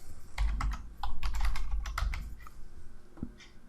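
Rapid keystrokes on a computer keyboard as a CAPTCHA code is entered into a login box, a close, steady run of clicks with a few pauses and a final tap near the end.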